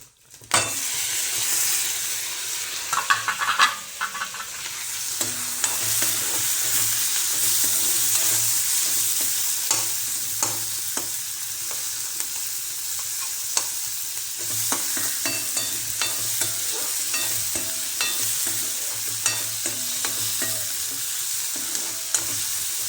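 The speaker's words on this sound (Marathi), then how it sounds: "चला टाकूया फोडणी. आता टोमॅटो," Tempering and tomatoes frying in a pan while being stirred, a loud continuous sizzle and hiss with frequent spoon scrapes and clicks, running steadily with no talking.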